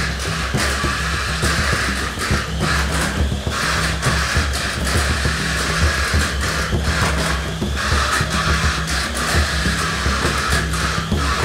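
A Tamiya Mini 4WD Aero Avante with oiled rollers running laps on a plastic track, a continuous loud whirring motor buzz with rhythmic clatter as the car passes through corners, steady throughout with no talking.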